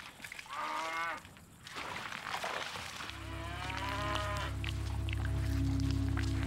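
Cattle in the Kalahari low repeatedly, several drawn-out moos from more than one animal at close range, with a steady low drone building underneath in the second half.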